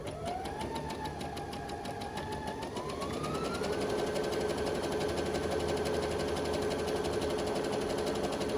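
A Brother Pacesetter PS500 sewing machine runs steadily, its motor whirring up to a faster pace partway through and then holding a continuous high-speed stitching drone, close and alone with no voices.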